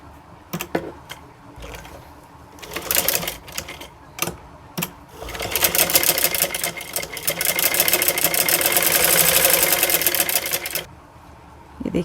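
A sewing machine stitches a trouser hem, running in short bursts with taps and clicks, then a sustained, steady whirring run of several seconds before stopping; no one speaks.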